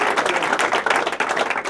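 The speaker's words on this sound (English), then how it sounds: "That deserves a round of applause." An audience applauds at a sports honors ceremony for a university baseball player, a dense, steady burst of many hands clapping close by with no voices over it.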